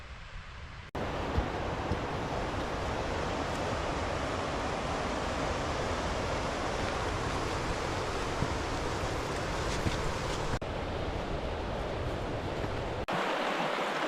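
A mountain stream rushes steadily and close at a hiking crossing near Halti fell, a dense unbroken roar with no voices.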